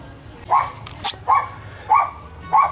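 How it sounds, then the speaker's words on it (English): A neighbour's dog barks four times in a steady series of sharp, mid-distance barks, with a brief higher yip between the first two, against a quiet background. "a neighbor's dog is barking and is making my dog bark now"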